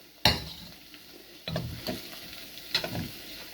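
Cheese and egg noodles being stirred in a pan, with a few scraping, clattering strokes of a utensil over a faint sizzle, loud and close, no talking.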